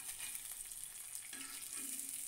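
An egg fries in a pan with a soft, steady sizzling hiss, faint and continuous throughout, with no voices over it.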